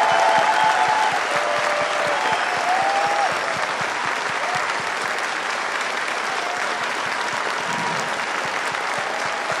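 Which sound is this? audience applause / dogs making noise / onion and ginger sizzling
audience applause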